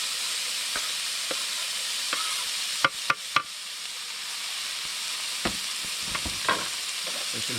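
Bacon fries in a pan by a river, giving a steady, close hiss and sizzle with a few sharp crackles and clicks of stirring scattered through.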